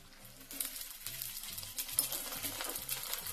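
Onions and green chillies frying in hot oil while being stirred, a steady soft sizzle with scraping stir strokes close up, no voices.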